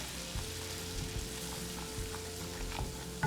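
Flour being stirred into melted butter in a hot pan, with a continuous soft sizzle and faint scraping of the spoon, close and quiet, no talking.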